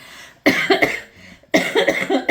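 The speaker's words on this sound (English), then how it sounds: "Excuse me, I'm still battling a cough." Two harsh, close coughing bursts, each a rapid cluster of hacks, separated by a short quiet pause.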